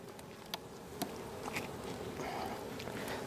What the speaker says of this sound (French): Donc là, on a des abeilles